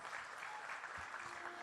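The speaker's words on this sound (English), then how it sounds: "Let's give a big round of applause." An audience at an awards ceremony applauds, a steady, faint patter of many hands clapping for a short moment with no break.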